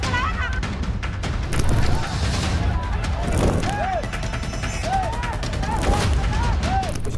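Firecrackers burst during a Muharram procession, a rapid irregular string of sharp cracks and pops amid dense crowd noise, with shouting voices and whistle-like calls rising over the din.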